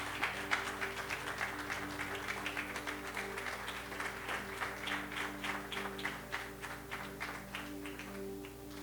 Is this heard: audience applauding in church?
yes